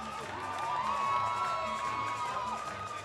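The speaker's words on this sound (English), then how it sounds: "Patrick Delgado, to the thunderous roar of the sold-out crowd here at Monona Terrace, gets a first-round victory by the chokehold" Sold-out crowd roaring and cheering after a first-round chokehold win at a Chosen Few Fighting Championships MMA event at Monona Terrace, a loud, sustained wall of cheers and whoops with no speech.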